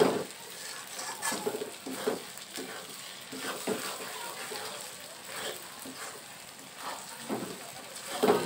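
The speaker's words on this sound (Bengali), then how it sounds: "আমি খুন্তির সাহায্যে কিছুক্ষণ এটা নেড়ে নেব, না হলে তলায় লেগে যাবে" A spatula stirs fried onions and potatoes in a pan, giving repeated scraping strokes at an uneven rhythm over a soft background sizzle.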